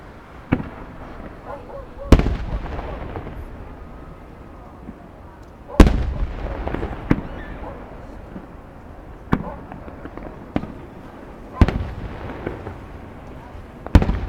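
Fireworks bursting over Grand Lake, Colorado, booming echoes rolling back off the mountains on either side: about eight sharp, loud blasts at irregular intervals, each trailing into a long reverberant rumble, with faint crackle between.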